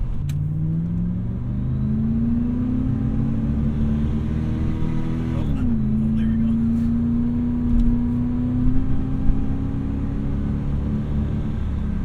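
An Oldsmobile Cutlass Supreme 442 with a badly slipping transmission, its engine revving in a loud, sustained drone that climbs, dips sharply, then climbs again without the car pulling ahead, close to the listener with no talking.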